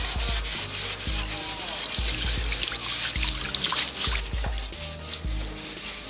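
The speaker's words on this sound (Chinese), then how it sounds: "竹子上面有很多灰的，把它洗干净来晾被子啊什么的都要好一点。" Water trickles and rubs along a dusty bamboo pole as it is washed clean for hanging bedding, a steady close scrubbing and dribbling sound with low thumps, no talk.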